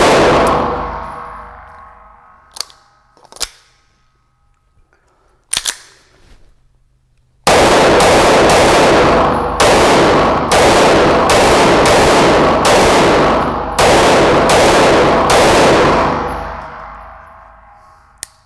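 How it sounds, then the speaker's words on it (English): Outdoors, a Staccato CS pistol fires several scattered single shots, then a rapid string of loud, sharp reports follows close together and echoes. No one talks. "Really fun gun to shoot, really fun gun"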